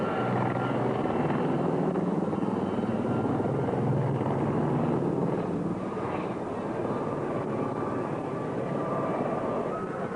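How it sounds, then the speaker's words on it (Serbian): Military helicopters fly past at a 1998 air show at Batajnica, a loud, continuous rotor and engine roar that holds steady throughout with no talk. "helikopteri koji dolaze sa vaše desne strane"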